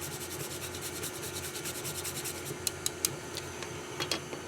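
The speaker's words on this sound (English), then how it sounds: "So we'll grate the nutmeg in." Whole nutmeg is grated in rapid, rhythmic rasping strokes, close and steady, with a few light taps near the end.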